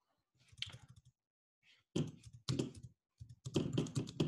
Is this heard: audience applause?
no